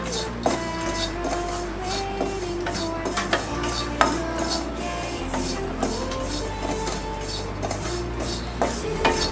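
Grated coconut for coriander panjiri is roasted and stirred in a pan with the gas off, making steady close rasping and scraping strokes with occasional utensil taps and no voices.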